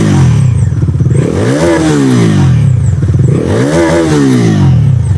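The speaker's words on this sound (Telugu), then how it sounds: "ఒకసారి ఎగ్జాస్ట్ సౌండ్ కూడా మీకు వినిపిస్తాను చూడండి." A Bajaj Dominar 350 with a double-barrel exhaust revs hard twice, the engine climbing and falling in two loud, close surges over a steady idle, with no talk.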